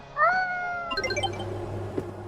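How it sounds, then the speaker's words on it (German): A single cat meows clearly in a horror warehouse simulator game, one drawn-out rising and falling cry up close, followed by a short burst of chirpy electronic game tones. "Katze!"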